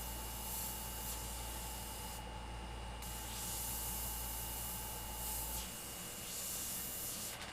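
An airbrush sprays paint freehand onto a skull design in steady, close hissing bursts with brief pauses between passes and a faint compressor hum behind.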